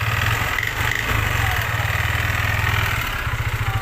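A Yamaha Aerox 155 scooter engine runs at idle nearby, a loud steady chugging putter that pulses rhythmically throughout.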